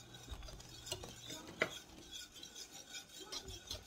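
A utensil scrapes and stirs thickening milk gravy in a pan of brown bits from fried chicken tenders, with soft repeated rasping strokes and occasional clinks of metal against the pan, close and quiet.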